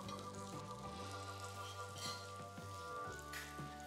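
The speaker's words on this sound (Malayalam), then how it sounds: "ബാക്കിയുള്ള പീസുകളും ഇതേപോലെ ഫ്രൈ ചെയ്തെടുക്കാം" Chicken pieces fry in a pan with a soft, continuous sizzle and crackle, steady and fairly quiet, heard under background music with no voices.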